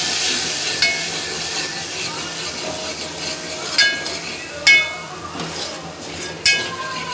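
Ragda mixture with turmeric and chutney being stirred in a hot pan, giving a steady close sizzle and hiss with a few louder scraping clanks of the spoon against the pan.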